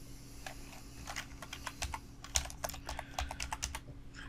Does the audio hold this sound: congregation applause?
no